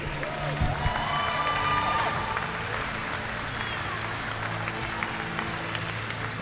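An audience at a women's timbersports championship applauds a competitor, a broad, moderately distant wash of clapping and cheering that swells early and then holds steady under an announcer's voice.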